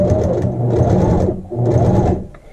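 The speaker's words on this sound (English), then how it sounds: "Now I'm going to go ahead and sew to the next corner." Sewing machine stitching a double patch over a hole, running in two steady bursts of rapid whirring stitches with a short pause between, close and loud, no talking.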